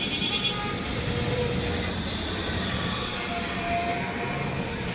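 A train rolling through the Azampur railway level crossing in Uttara, heard as a steady, loud rumble of rail cars with faint wheel squeal, continuous for the whole stretch without talk.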